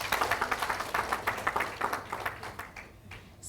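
A crowd claps at an International Women's Day celebration in Nakuru County, Kenya, rhythmic bursts of handclaps that grow thinner and fade over a few seconds.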